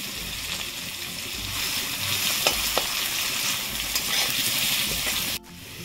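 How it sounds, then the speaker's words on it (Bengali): Chopped onions fry in hot oil in a pan, a steady loud sizzle with occasional stirring clicks and scrapes throughout. "তেলটা আছে তার মধ্যে আমি পেঁয়াজ কুচিগুলো দিয়ে দিচ্ছি। পেঁয়াজ কুচি দিয়ে 2 মিনিট মতো ভেজে নেব।"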